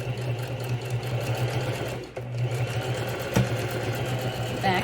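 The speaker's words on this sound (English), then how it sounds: "Now I'm going to sew here at this side also." A sewing machine stitches along the side of a fabric toiletry pouch, a steady close mechanical hum with fast needle chatter, running almost without a break and briefly pausing midway.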